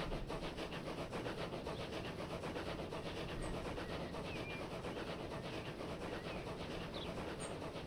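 A train in Transport Fever 2 running at maximum speed, a steady, faint rolling rumble with a continuous rhythmic rubbing clatter of wheels on track throughout.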